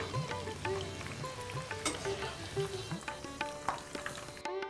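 Chunks of drumstick, bitter gourd and eggplant fry in hot oil for shukto, a steady close sizzle with intermittent scraping stirs and clinks of a spatula against the pan throughout.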